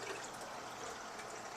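Water flowing through an aquarium overflow box on a reef tank, a close, continuous splashing gurgle with a steady level throughout.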